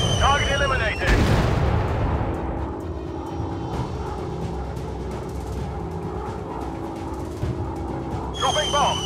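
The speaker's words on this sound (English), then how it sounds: "Dropping bombs." Bombs dropping and exploding in the WW2 air-combat game Warplanes, with dense booming blasts and gunfire-like crackle under steady aircraft engine drone, loud and continuous, with short radio-style voice bursts at the start and end.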